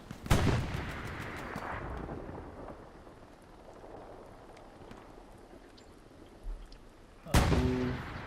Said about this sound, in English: Goes down to a big arty splash.